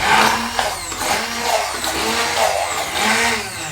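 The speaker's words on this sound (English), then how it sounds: "when you use a hand blender, it can go everywhere" A handheld immersion blender buzzes loudly in a pan of pizza ingredients, its motor whine wavering in rhythmic surges as it is lifted and lowered, alone without any speech.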